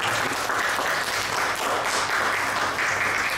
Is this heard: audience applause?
yes